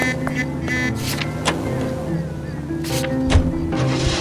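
A car drives in the video game L.A. Noire, with a steady engine hum under game sounds, a few sharp clicks and brief bursts, and some faint character dialogue in places.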